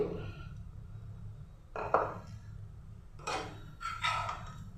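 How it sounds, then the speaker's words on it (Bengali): A spoon scrapes and clinks against a pan while roasted semolina is stirred for papaya halwa, giving a few separate, fairly quiet metallic scraping strokes over a low background hum. "সুজিটা দিয়ে কিছুক্ষণ সময় আমি নাড়াচাড়া করলাম"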